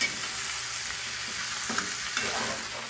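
Chicken returned to a pan of aromatics for a sinigang-adobo fusion dish, frying with a steady bright sizzle as a utensil scrapes and stirs, two sharper clacks standing out near the end.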